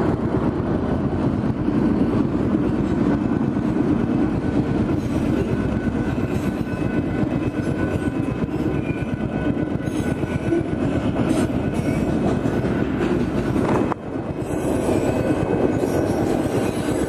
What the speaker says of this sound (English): There goes a train down there.